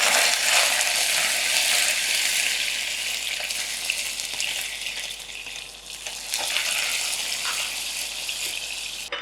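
Water is poured into hot caramelized sugar for a bread pudding, producing a loud, continuous hissing sizzle that gradually eases, heard close up with no talking.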